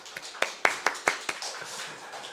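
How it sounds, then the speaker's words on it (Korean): A church congregation at a Thanksgiving Sunday service gives a sparse, faint round of clapping: about half a dozen distinct claps spaced unevenly over two seconds, then a soft room murmur. "하나님께 먼저 감사 영광의 박수를 올려드리겠습니다"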